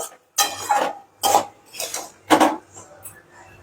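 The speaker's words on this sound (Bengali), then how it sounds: "ঢাকনা খুলে নেড়ে নেব।" A lid is lifted off a cooking pot and Malabar spinach (pui shak) greens with pumpkin are stirred: four separate clattering scrapes of utensil against metal, close and moderately loud, with short quiet gaps between them.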